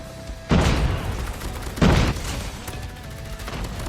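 Video game grenade explosions in a shooter match, two heavy booming blasts a little over a second apart, each leaving a rumbling tail under steady background noise.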